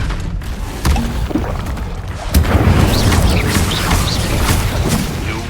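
Incendio fire spell blast in the Hogwarts Legacy video game: a sharp crack followed by a swelling, roaring burst that keeps rumbling loud and close amid combat sounds.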